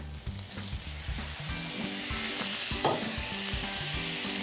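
Steady, close sizzling and crackling of chicken pieces frying in a hot pan for Kung Pao chicken, continuous throughout with faint clinks and stirring noises, no voices.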